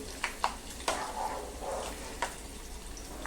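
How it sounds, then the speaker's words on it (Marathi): Peanuts fry in oil for a colocasia-leaf curry with a steady soft sizzle, punctuated by a few sharp taps of a spoon stirring the pan. "दाणे छान लाल होईपर्यंत परतायचे"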